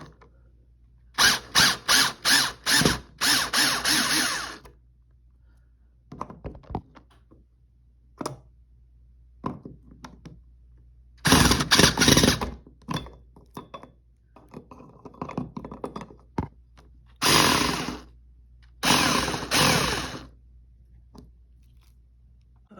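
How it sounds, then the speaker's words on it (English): A power tool removes the bolts from a ceiling fan mounting plate in a series of loud, close, rapid ratcheting bursts, some short and some several seconds long, separated by quiet handling clicks. "let me unscrew these two, take this bolt off"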